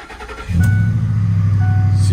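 A Ford F-150 pickup truck engine starts after a brief crank, catching with a jump in loudness and settling into a loud, steady rumbling idle nearby.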